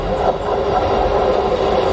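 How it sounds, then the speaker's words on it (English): A train rumbles steadily and loudly along rails, arriving at a station platform, a dense continuous roar with faint rhythmic clatter. "train arriving at platform 2 is the"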